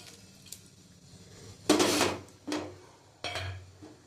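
Amudi fish pieces slid into boiling curry in a pot on a home stove, giving three separate close splashing, sizzling bursts spaced about a second apart, with no talking.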